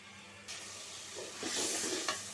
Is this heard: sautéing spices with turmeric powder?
yes